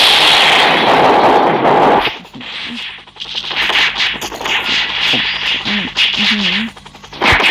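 Rapid automatic gunfire in a shooting video game, a loud dense burst for about two seconds, then a quieter stretch of game noise and shots with someone talking over it.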